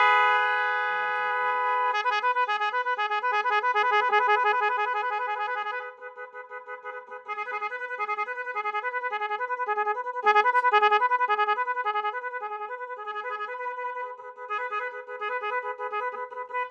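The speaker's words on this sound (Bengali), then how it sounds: "ঠিক এরকম 18টা সাউন্ড পেয়ে যাবেন এই একটা হর্নে।" An 18-sound magic vehicle horn cycles through loud, melodic electronic horn tunes and warbling patterns, with a brief pause before it switches to the next pattern.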